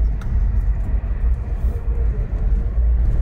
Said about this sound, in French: Même si je me mets en quatrième et que j'accélère, ça monte.